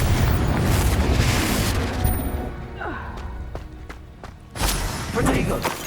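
Confringo fire spell explosion in Hogwarts Legacy, a heavy booming blast with crackling debris and scattered thuds, followed by a second rumbling burst, with voices in the mix.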